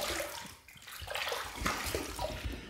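Running water rinses a safety razor under a tap, a steady close splashing and hissing with brief dips as the blade passes through the stream.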